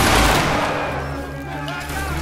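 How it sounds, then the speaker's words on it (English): Soldiers in a line fire a massed musket volley in a battle game: a loud crackling burst of overlapping shots at the start, then a fading rumble and ringing echo. "Alright, hold your shot. Let's do a volley."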